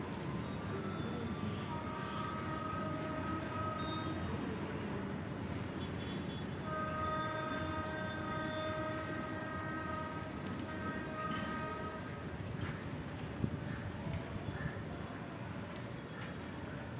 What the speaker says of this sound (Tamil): ட்ரெயின் போயிடுச்சு.